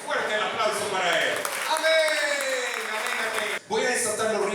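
A church congregation at a healing service breaks into sustained, dense applause, loud and close, dipping briefly before resuming, with a voice speaking over the clapping.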